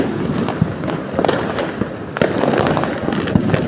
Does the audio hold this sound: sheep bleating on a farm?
no